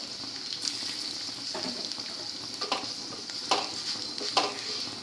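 Curry leaves and a pinch of asafoetida hitting hot oil, a quiet close sizzle with several short crackling bursts and stirring sounds, no talking.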